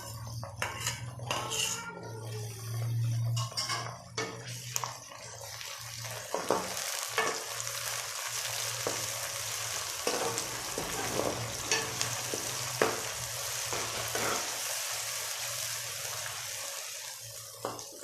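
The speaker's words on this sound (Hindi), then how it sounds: "सब्ज़ मिर्च और अदरक को थोड़ा सा फ्राई करने के बाद" Green chillies and ginger fry with onions in a pan for an aloo arbi dish. A close, steady sizzle runs under repeated metallic clinks and scrapes of a spoon stirring against the pan, with no voices.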